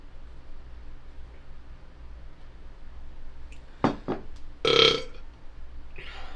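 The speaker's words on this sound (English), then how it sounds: "It's kind of a cheap burp." A single cheap-sounding burp stands out briefly against a low, steady background hum, close and fairly loud, with a couple of faint knocks just before it.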